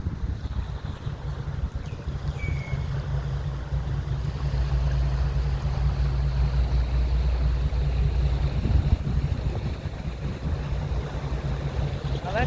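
Boat motoring on open water with steady low engine rumble and wind buffeting the microphone, continuous and fairly loud throughout, near red-tide coastal water where manatees live.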